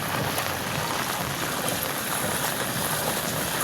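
Heavy rain pours down during a typhoon in the Philippines, a dense, steady hiss of falling water that stays even and fairly close the whole time, with no voices.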